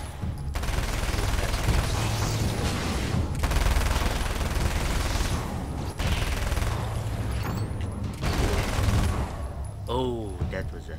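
Sustained video game gunfire from Alan Wake's American Nightmare, dense bursts of shots and mechanical clatter filling the scene, fairly loud and nearly continuous with short breaks.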